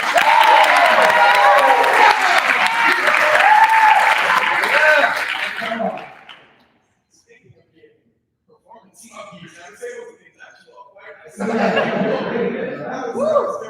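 A burst of clapping and laughter from a small group, followed by a quiet pause, then more chatter and clapping near the end.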